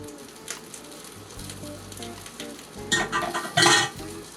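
Mushroom udon noodles fry and sizzle in a pan, a steady close hiss broken by louder stirring scrapes and utensil clatter toward the end.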